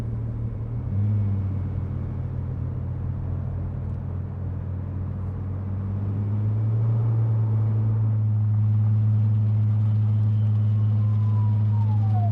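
Car driving through Night City in Cyberpunk 2077, a low, steady engine rumble that swells as the car speeds up, loud and continuous with no talk.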